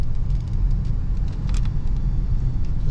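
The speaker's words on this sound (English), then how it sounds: "So we're going to accelerate to 50 miles an hour" A 2016 Ford Expedition SUV accelerates toward 50 mph, heard from inside as a steady, loud low engine and road rumble with no talk.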